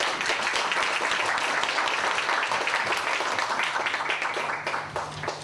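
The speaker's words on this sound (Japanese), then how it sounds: "もう一度拍手をお送りください" A crowd applauding fighters at a martial arts card announcement event, dense continuous clapping that fills the space evenly and tapers slightly near the end.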